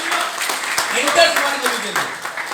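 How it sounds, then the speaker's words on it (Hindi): Audience applause at a product presentation for a wheatgrass product, a dense crackle of clapping lasting a few seconds with a voice talking over it. "जोरदार तालियां"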